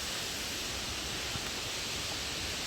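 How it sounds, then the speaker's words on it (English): Continuous broadband rushing roar of Big Laurel Falls, a big waterfall along a hiking trail, steady and even throughout, with no voices. "I'm assuming it's a big waterfall."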